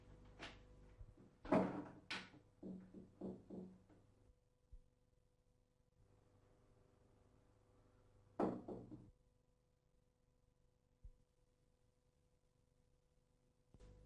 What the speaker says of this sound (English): Replace the hinge pins and test the door.